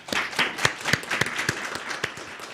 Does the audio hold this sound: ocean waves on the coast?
no